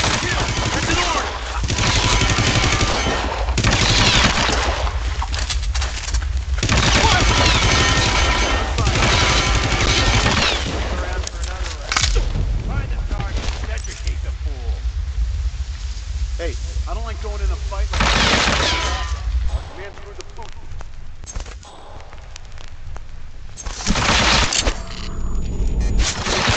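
Rapid bursts of gunfire from the video game Hitman: Absolution, loud and dense with shots repeating in clusters, a short lull near the end, and voices talking over the shooting.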